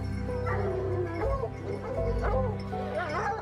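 Several hunting dogs yip, whine and bark close by in a dirty kennel holding about thirty dogs, overlapping continuously with a low rumble underneath.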